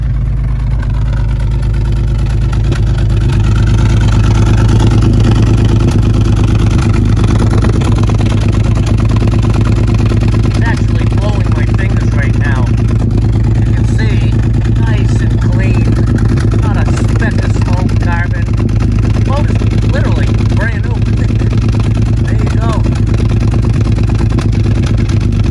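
A 1955 Chevrolet five-window pickup, a barn find, runs steadily through its exhaust system with a continuous low engine drone that holds loud and near for the whole stretch.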